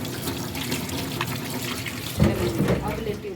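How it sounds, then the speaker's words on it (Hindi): Tap water runs steadily into a sink while hands are washed in a home kitchen before kneading dough, a continuous close splashing hiss with a brief louder surge of splashing near the end. "पहले हैंड वॉश कर रही हूँ।"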